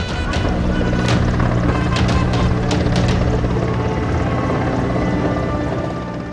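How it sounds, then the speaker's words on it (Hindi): A helicopter showering flower petals flies overhead, its steady loud rotor thrum and whine filling the air with rhythmic blade chop and a continuous roar that fades slightly at the end. "फूलों की बारिश करते हेलीकॉप्टर"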